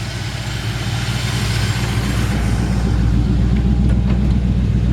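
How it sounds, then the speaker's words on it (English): A 1954 Ford F100 pickup idles through old cherry bomb mufflers, giving a steady, deep, loud exhaust rumble that holds even throughout. "It's got a nice sounding exhaust."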